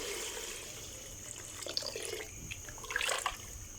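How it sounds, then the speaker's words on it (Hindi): Water poured into fried keema in a cooking pot, a faint trickling splash that grows louder and more gurgling toward the end, with no one talking. "अब हम इसमें पानी ऐड कर लेंगे।"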